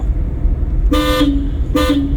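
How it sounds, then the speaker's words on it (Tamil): Two loud car horn honks during a driving lesson, the first longer, the second short, over a low idling engine rumble. "ஒரு ஹார்ன் அடிக்கணும்."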